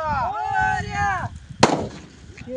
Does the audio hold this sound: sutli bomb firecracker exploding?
yes